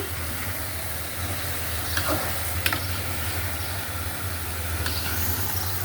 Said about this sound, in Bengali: আমি দিয়ে দিলাম লাউটা, মুরগি দিয়ে লাউ রান্না করতেছি।